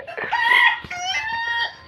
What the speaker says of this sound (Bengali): এই যে এখানে মুরগি কেকাচ্ছে